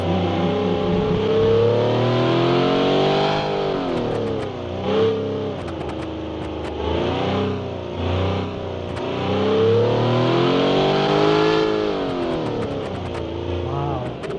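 A huge, powerful car engine in the Automation game accelerates hard and revs loudly, its pitch sweeping up and down through the gears in a continuous, close roar with no pauses.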